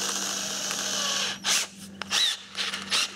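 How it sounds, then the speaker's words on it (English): A cordless drill whirs in short bursts, about four quick spins of its motor separated by pauses, close by over a faint steady hum. "I'm just going to pop into the chuck of my cordless drill"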